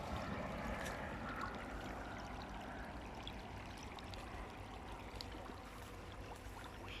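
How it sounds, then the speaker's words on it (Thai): Water flows into a rice paddy field being prepared for planting, making a faint, continuous rushing and trickling wash heard from a short distance, with no talk. "เขากำลัง ปล่อยน้ำเข้านาเลยนะครับ"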